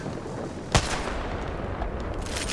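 A single sharp shot cracks out from a shooter video game over steady background ambience, followed by a faint second report.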